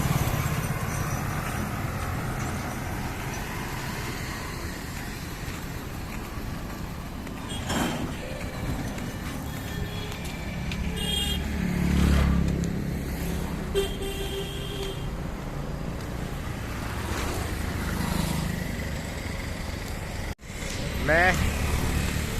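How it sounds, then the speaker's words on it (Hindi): Busy street traffic near Vishram Ghat in Mathura, with a steady rumble of cars and motorcycles and several short horn toots scattered throughout, while someone talks over the din. "यहाँ पे ट्रैफिक बहुत है"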